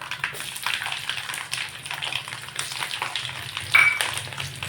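Garlic frying in hot oil for a churumuri (mandakki oggarane) tempering makes a steady, close sizzle and crackle. Occasional light stirring taps sound over it, and nothing else is heard.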